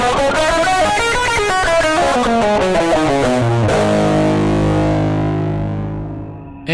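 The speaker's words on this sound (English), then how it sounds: "And now we are back to Aeolian mode," An overdriven electric guitar with effects runs through the Aeolian mode, the natural minor scale, in quick single notes, then lets a low chord ring and fade.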